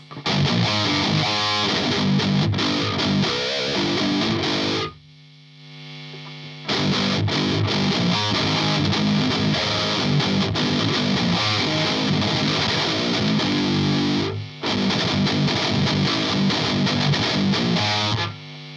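Crunchy electric guitar through a Savage Drive overdrive pedal with the bite control added plays loud chugging riffs, briefly dropping to a low hum twice before the gritty distorted tone kicks back in.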